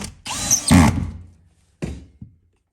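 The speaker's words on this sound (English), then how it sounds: "so we'll attach that with a couple of 2-inch screws" A power drill driving 2-inch screws into a garage box: a short loud whirring run with a thunk, then a brief second burst and a faint click, close and alone.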